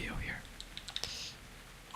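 Keys pressed on a mechanical keyboard, a handful of quiet, separate clicks and taps spaced irregularly, close up and soft, with light breathy sounds between them.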